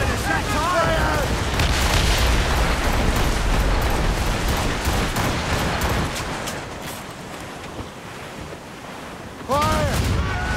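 Sea battle in the Assassin's Creed Rogue video game, with dense, rumbling ship cannon fire. The booms blend with ocean wash in a continuous loud roar that eases briefly near the end.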